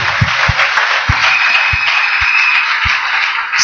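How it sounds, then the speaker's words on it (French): A church congregation applauds during a sermon, a dense wash of clapping with a few heavy rhythmic thumps underneath, loud and sustained for several seconds. "Applaudissons fort le Seigneur."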